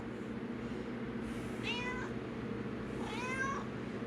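Two short meows from a cat, spaced a second apart, heard faintly over a steady hum of background noise.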